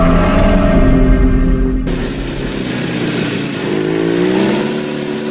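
A motorcycle engine runs loud and close, its steady drone shifting in pitch as it passes, with the sound of the ride continuing throughout and no talking over it.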